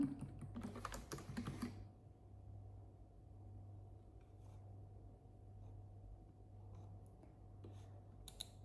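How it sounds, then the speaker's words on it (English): Steady keyboard typing in an ASMR-style setting, a soft continuous clatter of keys running throughout, quiet and close, with a brief louder burst of handling noise at the start. "I'm typing all this very professionally."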